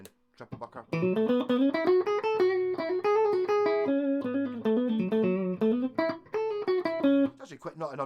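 An electric guitar played through its neck-position triple-bucker pickup rings out a run of sustained, slightly distorted notes and chords for several seconds, close and alone.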